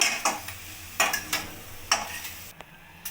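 A halved tomato roasts in a pan for a coriander chutney, heard as a few sharp scraping and clinking strokes of a utensil against the pan over a faint sizzle.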